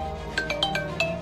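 A phone ringtone chimes in a quick series of bright, repeated melodic tones, an incoming call sounding close and clear over a quiet room.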